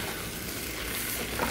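Okra fry (bendakaya) with coriander sizzles steadily in a pan, a dense and even crackle that stays at the same level throughout.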